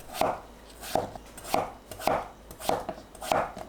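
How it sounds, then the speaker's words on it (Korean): A knife chops potatoes into large chunks on a cutting board, six evenly spaced thuds at a steady unhurried pace, close and clear with no talking. "감자는 큼직하게 대충 썰어주세요."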